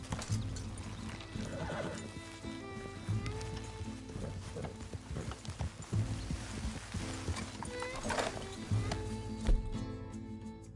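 Horse hooves clip-clopping with repeated neighs and whinnies in Red Dead Redemption 2, in a game world with rain and background ambience; the hoofbeats come in a steady rhythm at mid distance.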